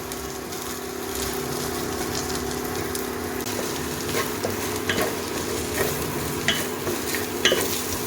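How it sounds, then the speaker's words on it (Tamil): Cabbage sautés in oil with ginger and garlic for egg rice, a steady close sizzle with repeated scraping stirs growing more frequent toward the end. "முட்டைகோஸை நல்லா வசக்கிக்கிட்டே இருக்கணும்"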